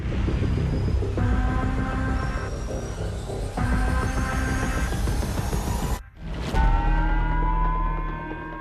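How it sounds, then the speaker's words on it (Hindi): A civil defense siren in Hokkaido, Japan, wails continuously over a low rumble, its tone holding steady, then breaking off briefly before sounding again. "जापान के होक्काइडो में सायरन बजने लगा है।"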